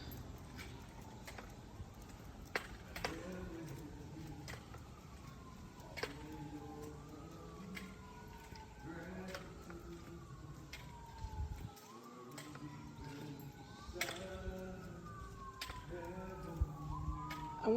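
Emergency vehicle sirens wail in repeated rising and falling sweeps, fairly distant, near a bridge over the James River after a crash, with road and traffic noise underneath.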